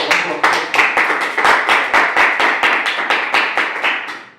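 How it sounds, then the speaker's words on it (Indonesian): A small group claps together at the close of a group counseling practice session, a steady run of quick hand claps that lasts several seconds and then fades. "Berikan tepuk tangan"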